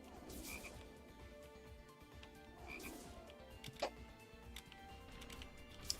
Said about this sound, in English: The frogs, they just make generic frog sounds.